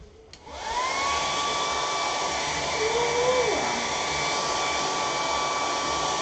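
A hair dryer clicks on and runs with a steady, loud whirring blow as it dries wet paint on a canvas, its pitch shifting slightly as the airflow moves across the surface.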